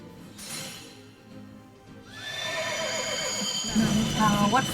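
Horses in the video game Fate neigh and whinny in bright, wavering calls, several overlapping near the end, with a soft clip-clop of hooves underneath.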